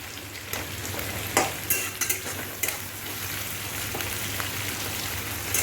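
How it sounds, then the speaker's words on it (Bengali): Food sizzles steadily in a pan while a utensil scrapes and clinks against it every so often. No one speaks, and the frying stays fairly quiet. "ভালো করে ফ্রাই করে নেব একটু"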